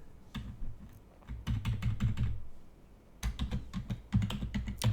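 Rapid keystrokes on a computer keyboard in short bursts separated by brief pauses, close and fairly quiet, with no talking.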